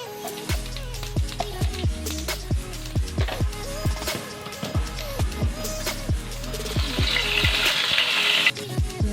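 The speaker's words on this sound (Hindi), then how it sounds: "ज़ीरा हमारा चटक गया" Cumin seeds crackling in a little hot oil in a frying pan, steady sizzle with repeated clatter of stirring and a brief splashy hiss toward the end.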